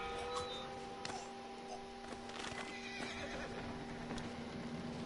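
A horse in Red Dead Redemption 2 whinnies amid dense game ambience with steady tonal hum and scattered clicks, moderately loud and continuous for several seconds, with no talking.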